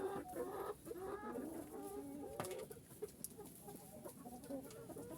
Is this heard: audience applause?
no